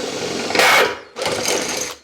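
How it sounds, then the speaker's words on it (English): A power drill with a rusty bit whirs in two short bursts while boring holes during an aluminium window installation, the second burst slightly longer, close by, with a brief pause between. "That's why we're using a rusty drill bit."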